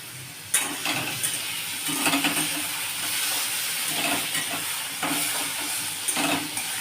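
Chuno fish sour curry (tok) in a pan hisses with a steady sizzle, broken by repeated stirring strokes of a spoon. Close by, with no talking.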